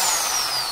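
A power drill bores through a plastic bank card, giving a brief, loud, steady high-pitched whine whose pitch slowly drops as it cuts, with no talking.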